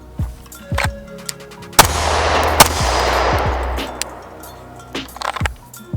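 Shots ring out from an STI Staccato C pistol on a range, several sharp reports spread across a few seconds, one especially loud crack echoing into a long decay, close and without talk.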